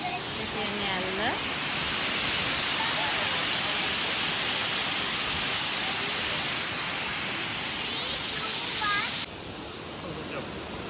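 Baker's Falls at Horton Plains roars as a loud, unbroken wash of falling water, close by and filling the scene, with brief voices talking over it near the start and end.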